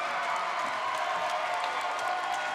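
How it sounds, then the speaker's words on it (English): Crowd applause for the fighters at a professional fight event, a continuous wash of clapping and cheering heard at a distance, steady and moderately loud. "Give these fighters a big round of applause"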